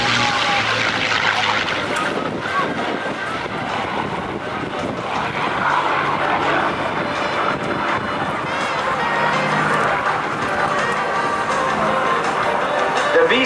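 A Yak aircraft powered by a V-1710 engine flies at an airshow, giving a continuous, fairly loud engine drone mixed with wind rush while an announcer talks over it.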